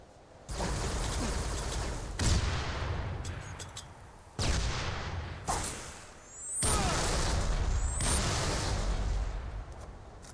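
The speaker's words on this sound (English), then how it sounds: "I love to just hear lots of explosions" Video game explosions and gunfire crash in dense, loud bursts with whooshing sweeps between them, filling most of the stretch with a brief lull in the middle.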